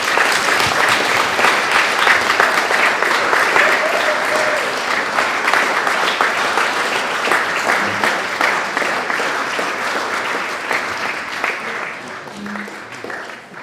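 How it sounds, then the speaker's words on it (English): Wedding guests applaud the couple during the reception speeches, a dense, sustained round of clapping that holds steady for over ten seconds before tapering off slightly at the end. "if you could put your hands together for these two again"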